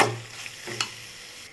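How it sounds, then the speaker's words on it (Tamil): Cooked rice being stirred into sautéed carrots in a pan, a soft sizzle with a couple of quick scraping strokes of a spoon, brief and close with no voices. "இப்போ நம்ம இதெல்லாம் சாதம் போட்டு கிளறிக்கலாம்"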